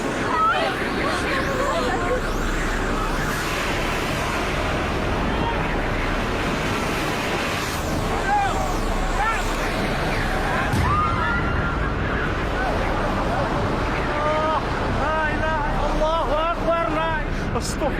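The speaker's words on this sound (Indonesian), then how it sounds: "Awas angin! Awas angin!" Strong wind roars and gusts through an outdoor graveside burial scene, a steady broadband rush throughout with shouting voices over it.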